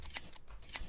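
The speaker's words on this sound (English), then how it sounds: "Snip, snip, snip, snip." Sheep being sheared with shears in Minecraft, heard as quick, crisp snipping clicks, two sharp snips close together and another shortly after, faint and close with no talking.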